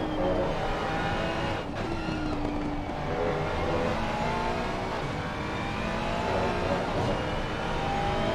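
Onboard race car engine from a racing video game lap at Misano, a continuous revving drone that rises and falls through gear changes and corners, steady and moderately loud throughout.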